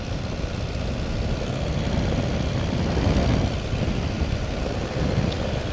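Tiger Moth biplane's engine drones steadily and loudly throughout, a continuous propeller-aircraft roar heard from inside the open cockpit in flight, with no talk.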